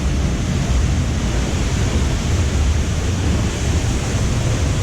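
A steady, dense rush of falling water roars continuously, broadband and loud, like a nearby cascade pouring down without pause.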